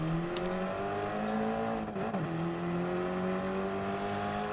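Racing cars in a video game race start, a KTM X-Bow field at a track in Cuba: a loud, continuous engine drone with rising pitch, one engine shifting gear midway, several engines layered together.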